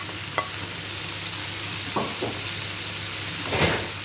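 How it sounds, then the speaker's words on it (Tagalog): Bitter gourd (ampalaya) and tomatoes sautéing in a pan give a steady low sizzle, broken by a few short scraping stirs near the start, middle and end, with no voices. "habang naggigisa ako, yung aking pangsahog"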